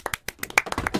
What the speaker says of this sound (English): I like the claps.